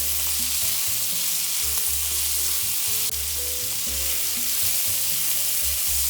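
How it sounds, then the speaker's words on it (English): Mixed vegetables for a black bean curry fry in a pan with a continuous bright hissing sizzle, steady and close, under a low humming tone that shifts pitch; no voices are heard. "So we are going to let this vegetable cook for a couple of minutes"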